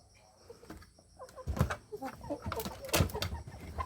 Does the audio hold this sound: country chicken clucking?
yes